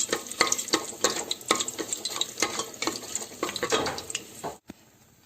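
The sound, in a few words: sauteing cardamoms and bay leaves in a pan for biryani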